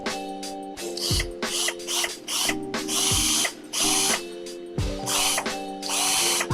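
A power drill whirs in repeated bursts, revving up and cutting off, with harsh grinding as it bores into a carrot, close and loud.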